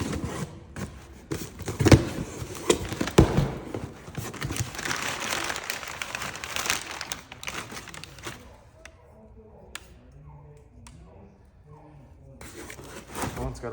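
Crinkly packaging rustles and crackles as an HMF full exhaust for a 2009 Yamaha Raptor 700R quad is unboxed, busier in the first half. Quieter shuffling and soft bumps come after, with no voices.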